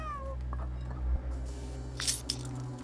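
A cat meows in the video game Stray: a few short, clear meows over a steady low game ambience, followed by brighter clinking sounds near the end.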